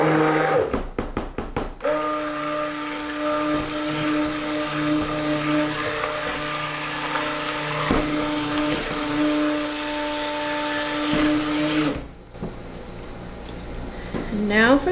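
A handheld blender whirs steadily while mixing green colorant into soap. Its motor drone runs continuously for about ten seconds after a few knocks, then cuts off, and a voice talks over it.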